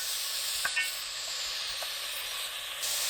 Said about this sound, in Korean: 냄비에 소고기, 참기름 1큰술 넣고 센 불로 1분 볶아주세요